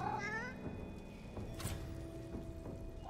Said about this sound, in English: I'm gonna befriend this cat.